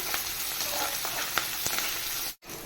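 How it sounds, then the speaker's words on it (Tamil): Onions, mustard seeds and curry leaves sautéing in hot oil give a steady close sizzle with a few sharp pops, heard alone. "இப்போ இது எல்லாம் நல்லா வதங்கட்டும்"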